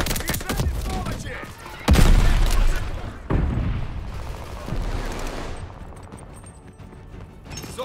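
Explosions and rapid gunfire from the video game Call of Duty Vanguard, with a loud grenade blast and fusillades of shots bursting in succession, while a voice speaks over the action.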